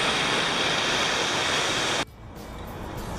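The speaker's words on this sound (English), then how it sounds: "So just a quick stop off the highway to a waterfall." A roadside waterfall just off a highway rushes as a loud, steady roar of falling water, then cuts abruptly to a much quieter outdoor ambience for the last second.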